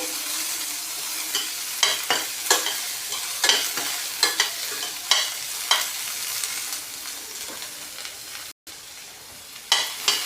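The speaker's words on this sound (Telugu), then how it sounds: "కొంచెం బ్రౌన్ కలర్ వచ్చేంత వరకు వేయించుకోవాలండి" Chopped onion frying in a pan gives a continuous sizzle punctuated by regular scraping stirs every second or so, close and moderately loud, with no talking.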